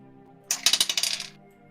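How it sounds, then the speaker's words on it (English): A plastic twenty-sided die drops onto a tabletop during a tabletop role-playing session, giving a quick run of about eight bright, clattering bounces that settle within a second, heard close and alone. "That was the sound of my D20 falling."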